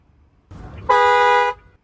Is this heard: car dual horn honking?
yes